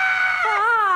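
A single sustained, high scream imitated by a voice in a children's music lesson, loud and steady for about a second with a pitch that slides downward partway through.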